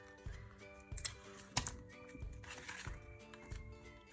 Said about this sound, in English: And I'm gonna cut this off.